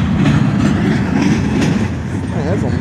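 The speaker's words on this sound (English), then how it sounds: "Man, that's a long train." A long Norfolk Southern freight train rolls past close by, loud steady rumble with rhythmic clickety-clack of wheels over rail joints and a brief metallic squeal near the end.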